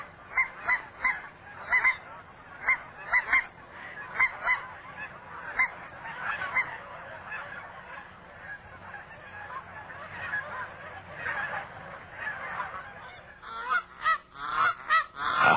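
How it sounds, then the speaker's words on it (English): Cackling geese calling in repeated short, high-pitched honks, some in quick clusters, at moderate distance with no talk. "The call of the cackler is distinctive and is the best way to identify cackling geese."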